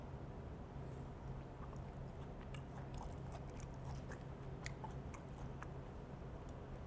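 Crunchy chewing of a breaded pork cutlet in curry sauce, close to the mic, with soft irregular crunches over a steady background hum and no talk.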